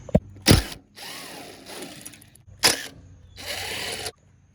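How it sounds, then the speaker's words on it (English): A power tool or ratchet removes 10mm bolts holding the fender of a Nissan 350Z, with several sharp clicks and two bursts of whirring spin, close up with pauses between. "popping off this fender with a couple 10mm bolts there, here, one there"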